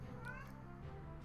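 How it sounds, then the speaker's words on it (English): A cat meows repeatedly in the background, faint and somewhat distant, with a low steady hum underneath. "If you guys hear meowing in the background, it's my cat."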